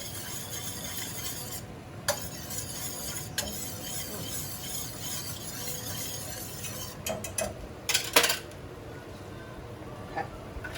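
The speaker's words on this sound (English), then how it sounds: "Take a whisk." A whisk stirs black pepper and salt in a pan, a faint, steady scraping with a few sharper metallic clinks near the end.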